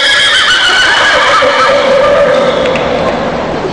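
A man imitates a horse neigh while burping in front of a concert crowd at the Araneta arena, producing a loud, sustained whinny-like sound that carries through nearly four seconds with steady intensity.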